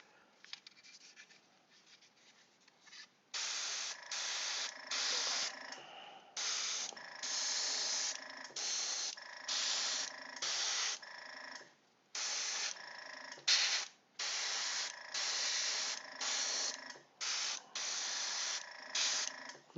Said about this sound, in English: let's keep spraying Cerberus here